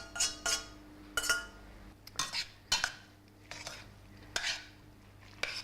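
Sauce going into a pan of linguine with spicy sausage and being stirred, a series of sharp metallic clinks and scrapes of a utensil against the pan at an uneven rhythm, close and fairly loud.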